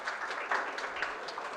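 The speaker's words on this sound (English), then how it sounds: "all of us should give a big round of applause to him" An audience at a conference event applauds briefly, a short burst of scattered clapping heard from within the room at moderate level.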